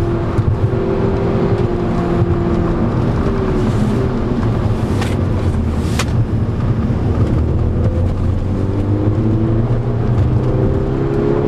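A 2010 Volkswagen Golf GTI with a 2-liter turbocharged engine accelerating, a loud, steady engine drone with rising and shifting tones heard from close inside the car, alone with no talk.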